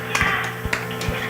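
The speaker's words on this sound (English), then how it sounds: "round of applause, everyone" A small studio crew claps at the end of a show taping, giving a few sparse, distinct hand claps close by rather than a full wave of applause.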